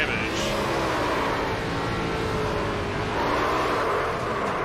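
A race car in a racing video game, its engine droning and revving steadily through a crash, with a broad continuous roar and a slight surge near the end.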